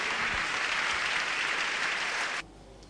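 A church congregation bursts into loud, sustained applause with some cheering, a dense wall of clapping that runs steadily for over two seconds and then cuts off abruptly.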